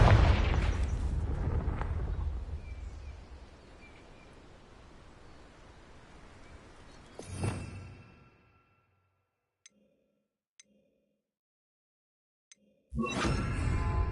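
Spell explosions from the Hogwarts Legacy video game, Confringo and Bombarda: a loud, broad rumbling blast that decays over several seconds, a sharp burst near the middle, a silent stretch with a few faint ticks, then another loud blast at the end.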